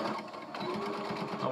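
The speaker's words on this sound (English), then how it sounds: "now we're going to take them to the sewing machine" A sewing machine stitches fabric for apparel up close, a rapid, steady mechanical whir and clatter running without pause, with no one talking over it.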